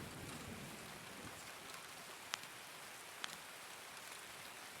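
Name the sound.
rain falling in the game Escape from Tarkov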